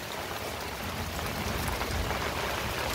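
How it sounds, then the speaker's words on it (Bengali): Heavy storm rain pours down on a garden of potted plants in a dense, roaring wash of drops, steady and loud throughout, with no voices. "দেখুন বৃষ্টির জলে কি সুন্দর হচ্ছে, ভীষণ ঝড় হচ্ছে"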